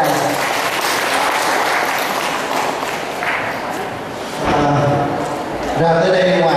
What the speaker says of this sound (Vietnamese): Xin quý vị và một tràng pháo tay.